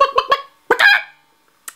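A voice imitates a chicken with a few quick clucks followed by a longer squawking call and a brief final cluck, close and clear with no talking.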